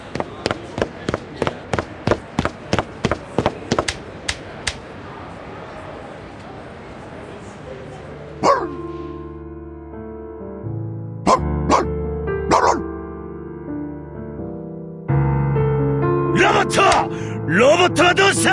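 A dog barks in a rapid run of sharp yips in the video game Reverse 1999, then fades as tonal game music and effects take over, with a few isolated bark-like hits later on.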